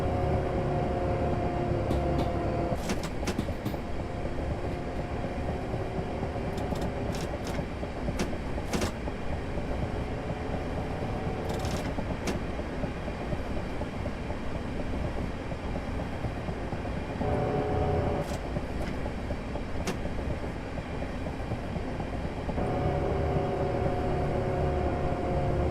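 Southeastern passenger train running between London Victoria and Orpington via Herne Hill: a loud, continuous rumble and roar of wheels on rail heard from on board, with sharp clicks of track joints and brief whining tones.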